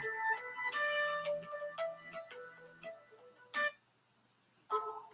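An incoming call rings during a livestream as a series of bright electronic tone bursts, then two more short ringing bursts after a quiet gap, with no talking.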